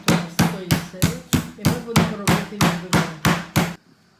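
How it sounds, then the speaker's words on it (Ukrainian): Steady, even pounding of meat into cutlets with a mallet on a board, about eleven sharp, loud thuds at a regular pace, then a sudden stop into quiet. "І так відбиваємо м'ясо на відбивні."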